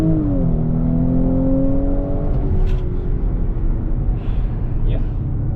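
Audi S4 B9.5 engine pulling hard under acceleration, a steady rising drone with harmonics climbing then leveling off, loud and continuous with a faint whistle-like boost note near the start.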